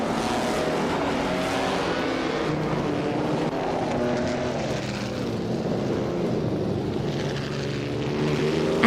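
A 1958 BRM P25 race car engine in a racing game: a steady, sustained engine drone holding at one level throughout, with no talk.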